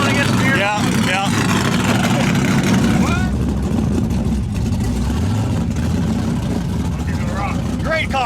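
A Corvette engine revs loudly at close range, a steady roaring drone with rising and falling pitch, while people talk over it.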